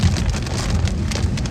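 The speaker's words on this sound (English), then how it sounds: "y'all might hear a lot of noise because it's raining outside" Steady rain drums on a car while it drives, a dense, close, even patter with no pauses throughout.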